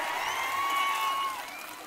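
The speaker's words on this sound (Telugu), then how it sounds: "పెట్టాలంటే గట్టిగా చప్పట్లు కొట్టి చెప్పండి" A large crowd at a political rally claps and cheers in a dense, continuous wash of applause with whistle-like whoops, fading slightly toward the end.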